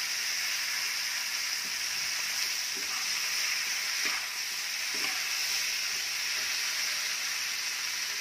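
Chopped eggplant with turmeric steams and sizzles in a pan, a steady frying hiss with a few soft stirring clicks, close and even throughout.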